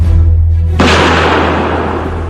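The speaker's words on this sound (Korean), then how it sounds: "암담한 비운이 무겁게 들이은 보천보의 밤하늘을 찢으며 한방의 총소리가 울렸습니다." A single gunshot rings out as a sound effect for a night attack at Pochonbo in 1937: one sharp, loud burst after a low hum, trailing off into a long reverberant decay.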